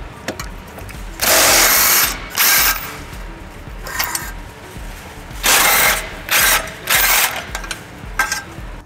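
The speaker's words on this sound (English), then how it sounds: "using a 17 millimeter socket, we're gonna remove two bolts holding the tow hook." Ratchet with a 17 millimeter socket removing the tow hook bolts on a 2018 Toyota Highlander during a trailer hitch install, several loud bursts of rapid clicking separated by short pauses, close up with no talking.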